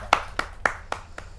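Five crisp claps land in a steady rhythm at a Hindi poetry gathering, a kavi sammelan, close and clear with quiet space between each beat.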